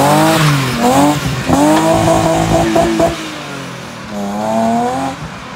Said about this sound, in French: Ça fait que patiner avec les 14.